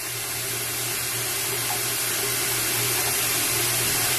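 Running water rinses skin care product off, a steady broadband splash like a tap or sink flowing continuously at close range with a low hum underneath, no talking.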